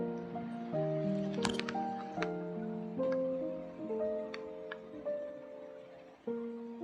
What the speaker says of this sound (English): We are going to add in some water and mix it all nicely.